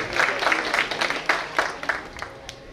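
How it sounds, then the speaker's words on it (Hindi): Scattered applause from guests at a grand building inauguration ceremony, a few uneven claps rising and falling at moderate loudness over a few seconds. "हमारे आदरणीय अतिथिगण ताली बजा दीजिए"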